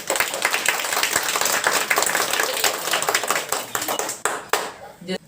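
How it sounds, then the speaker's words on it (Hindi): At a Children's Day school celebration, an audience claps to welcome a speaker: dense, steady applause for about four seconds that thins into a few scattered claps at the end. "तो तालियों से स्वागत कीजिए उनका।"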